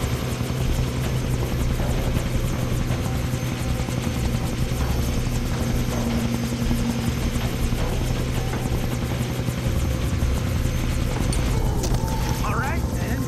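Helicopter in the Far Cry 3 video game, a steady, loud rotor drone with a continuous low chop that persists throughout, with voices talking over it.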